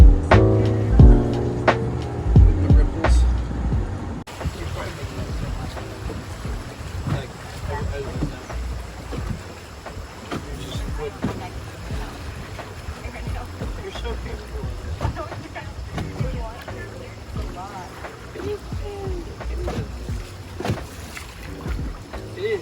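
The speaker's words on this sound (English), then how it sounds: "We also went on a canoe ride, and it was like a sunset canoe ride." Sunset canoe ride on a jungle river in Ecuador, with continuous water wash and wind buffeting the microphone; voices are likely mixed in.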